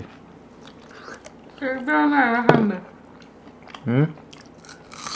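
Curd rice being chewed and bitten during a sibling eating challenge, with soft wet mouth sounds and crunches close to the mic, interrupted by bursts of talking and laughter.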